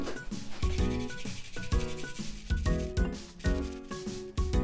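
Freshly peeled ginger is grated for gyoza in a home kitchen, producing close, rhythmic rasping strokes in rapid repetition over a musical background.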